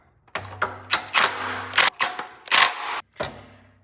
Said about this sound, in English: Now we can tighten this carburetor.